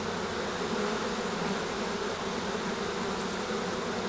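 Honey bees venting and fanning at their hive make a dense, even buzzing hum, close and constant, with no voices.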